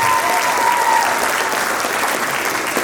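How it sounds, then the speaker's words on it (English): Steady audience applause at a Sydney anniversary celebration, honoring dancers, a dense continuous patter of many hands filling the whole moment without speech. "Let's give them another round of applause."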